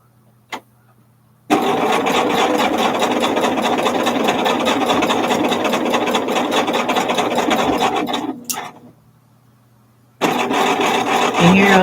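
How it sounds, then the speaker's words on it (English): A lawnmower running outdoors, its steady droning engine holding loud and even for several seconds, cutting out briefly, then starting up again. "I hear a lawnmower outside."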